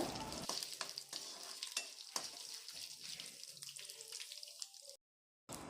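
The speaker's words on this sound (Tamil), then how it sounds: "இப்போ இந்த இஞ்சி பூண்டெல்லாம் நல்லா வதங்கட்டுங்க" Ginger and garlic sauté in a pan with a bright, constant sizzle and sharp clicks from a stirring utensil, then the sound drops out into a short silence near the end.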